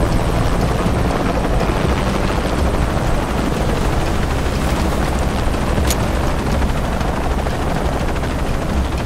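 A helicopter drones steadily and loudly throughout a scene in the video game Shadow of the Tomb Raider, with a dense rotor thump and no pause.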